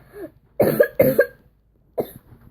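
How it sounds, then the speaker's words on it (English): Several short, harsh coughs from one person, close and fairly clear, in two quick bursts followed by a softer one after a pause, with no other sound around them. "Sorry, I'm coughing."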